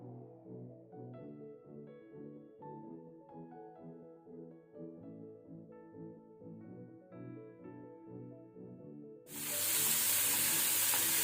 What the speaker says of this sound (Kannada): ಅದನ್ನು ಸ್ವಲ್ಪ 1 ರಿಂದ 2 ಮಿನಿಟ್ ನಾವು ಸ್ವಲ್ಪ ಫ್ರೈ ಮಾಡ್ಕೊಳ್ಳೋಣ.